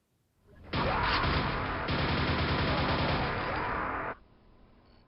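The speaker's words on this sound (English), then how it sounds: "super accurate nail gun shots" A rapid, unbroken stream of nail gun shots in the Quake video game, loud and close, rattling continuously for about three seconds before cutting off abruptly into quiet.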